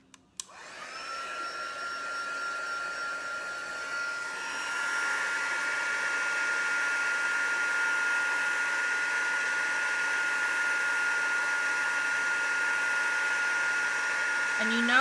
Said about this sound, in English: Now I'm going to turn the heat tool on, so it's going to get a bit noisy